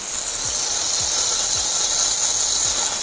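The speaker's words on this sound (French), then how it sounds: "on va saisir les deux côtés restants de notre viande" Beef searing in a hot pan with loud, steady, close sizzling and hissing throughout, plus a few faint scrapes underneath.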